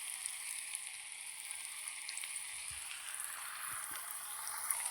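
Mustard seeds, fenugreek, curry leaves, onion, dried and green chillies and garlic frying in oil in a pan, a steady, quiet sizzle with faint crackles and pops throughout.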